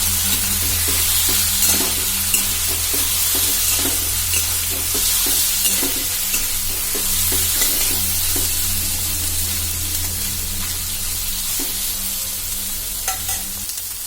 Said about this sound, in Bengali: এবার হাতা দিয়ে নেড়ে চেড়ে সয়াবিনটাকে সুন্দর করে লালচে করে ভেজে নেবো